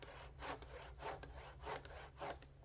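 A handsaw cuts through a wooden log in steady back-and-forth strokes, about five or six rasping pulls and pushes in an even rhythm, close and fairly quiet, with no talking.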